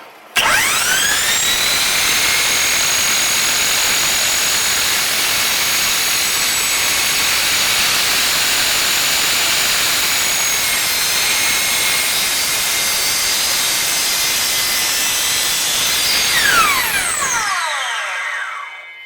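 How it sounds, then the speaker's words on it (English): A Kobalt 12-inch sliding miter saw spins up into a loud, high, steady whine as the blade is lowered to score plywood veneer, holding for about sixteen seconds before the motor cuts off and the pitch winds down. "I'm going to bring my blade down and just barely score the veneer"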